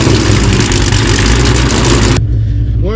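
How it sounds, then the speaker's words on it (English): A cammed Ford Mustang Terminator Cobra engine idles loudly, a heavy, dense, lumpy rumble right up close. It cuts off abruptly about two-thirds through, leaving a quieter low tail. "she's real loud at idle now"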